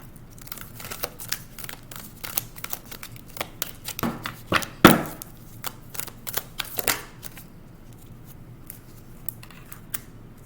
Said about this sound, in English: I'm gonna shuffle while I'm doing that as well.